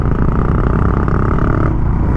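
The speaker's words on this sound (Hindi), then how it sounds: "तो ट्रैफिक बढ़ता जा रहा है थोड़ा सा" Loud, continuous road noise while riding a motorcycle toward Leh on a rainy, cold road with traffic building, engine drone and wind rush steady throughout before easing slightly near the end.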